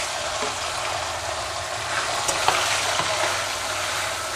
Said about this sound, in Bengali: মাছগুলো কিন্তু আমি খুব বেশি ভাজবো না, একদম সামান্য